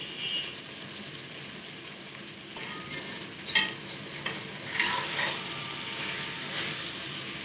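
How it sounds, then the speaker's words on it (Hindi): Bhindi masala with okra, onion, tomato and green chilli fries in a pan while being stirred, a steady close sizzle broken by scraping strokes and several louder clatters of the spoon. "अच्छी तरह से मिक्स करेंगे।"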